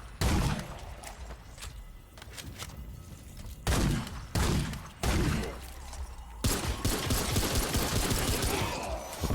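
Rapid pistol gunfire in the Remnant 2 video game comes in several loud bursts of quick shots, layered with thuds and game effects over a busy backdrop.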